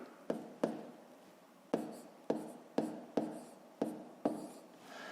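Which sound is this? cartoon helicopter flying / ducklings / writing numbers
writing numbers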